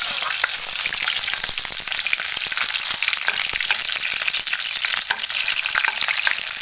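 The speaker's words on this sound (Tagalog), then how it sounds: "ilunod ko na yung sibuyas" Onions for escabeche sizzle steadily in hot oil, a dense, continuous crackle of frying with occasional stirring clicks. The sound is close and no one speaks.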